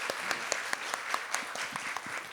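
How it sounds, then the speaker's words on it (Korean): An audience at a special AI lecture for National Assembly staff gives steady, even clapping to welcome the speaker, a Seoul National University AI institute director, at moderate distance with no talking over it. "우리 박수로서 환영해 주시기 바랍니다."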